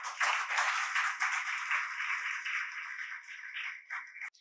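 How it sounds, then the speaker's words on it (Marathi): Audience applause at a formal ceremony honouring a guest, a dense sustained wash of many hands clapping that holds steady for several seconds, then thins and stops abruptly, with no voices over it. "आपण ह्या सर्व टाळ्यांचा गडगडाट झाला पाहिजे"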